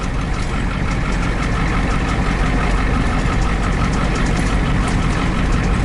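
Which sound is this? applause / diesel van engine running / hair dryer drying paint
diesel van engine running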